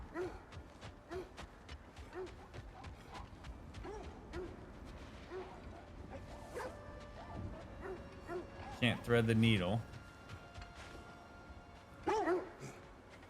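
Dogs or wolves barking in God of War Ragnarök, short bursts of barks and yips mixed with creaking game mechanisms and effects, while someone talks over the action.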